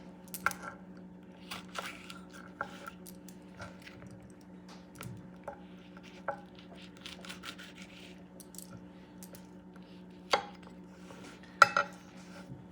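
Habanero peppers drop one by one into a glass bottle while making Puerto Rican hot sauce, scattered faint clinks and taps against a quiet steady hum, with a sharper knock near the end.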